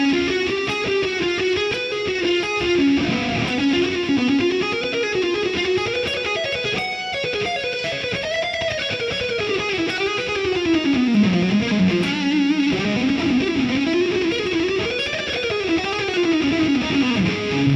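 Distorted electric guitar plays a bluesy lead in D, a continuous run of sustained, bending, sliding notes with a gritty overdriven tone, loud and close with no talking.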